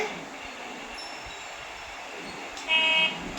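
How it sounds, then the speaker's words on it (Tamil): A Bluetooth toy car horn gives one short, bright honk lasting about half a second, sounding over a steady background hum. "ஹாரன்லாம் அடிக்குது"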